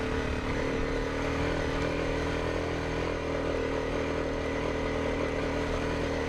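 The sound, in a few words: motorcycle engine on a trail climb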